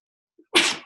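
A single sharp human sneeze indoors, preceded by a faint quick intake of breath, loud and close, bursting out and trailing off within a fraction of a second.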